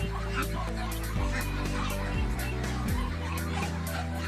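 Muscovy ducks on a small farm, with several loud, close honking and hissing calls in short bursts, one after another, over a steady hum of background noise.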